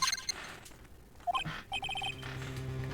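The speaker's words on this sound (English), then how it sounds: "Mr. Nick, the transceiver." A transceiver rings in Phoenix Wright: Ace Attorney, a series of short, bright electronic chirps in quick bursts, fairly quiet, with a soft tone lingering afterward.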